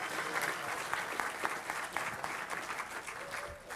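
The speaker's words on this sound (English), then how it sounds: "Let's give another round of applause to all these young entrepreneurs, and especially their parents and their guardians." A hall audience claps for young entrepreneurs, a steady mass of hands at moderate distance, even in intensity and continuing without pause.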